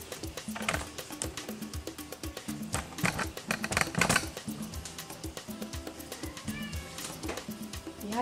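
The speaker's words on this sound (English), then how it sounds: "Yeah, cats." A cat meows repeatedly among busy clicking and clattering kitchen sounds, the cries short and moderately close.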